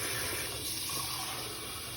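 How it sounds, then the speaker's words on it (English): Hot, near-boiling water poured into a dish for potato scallop, a steady close hissing pour lasting about two seconds with no voices. "and then I'm gonna put hot water"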